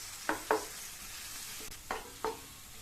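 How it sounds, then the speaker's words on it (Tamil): Sliced onions sautéing in oil and ghee for pulav, a soft steady sizzle under a few spoon-stirring scrapes in two pairs, quiet and close. "இந்த வெங்காயத்தை இதனுடைய கலர் நல்லா மாறி ப்ரௌன் கலராக வர வரைக்கும் வதக்கிக்கலாம்"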